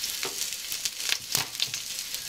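Shallots sizzle in a hot pan, a close, crackling fry with quick bursts of spitting and popping over a soft hiss for a couple of seconds, no voices.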